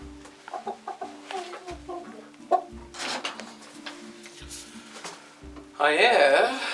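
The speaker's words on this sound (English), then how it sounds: "It's my hens pen. Let's go in and say hello to the hens." Hens clucking inside their pen on a homestead, a busy run of short clucks and squawks close by, mixed with footsteps and handling noises and ending in a louder burst of rustling.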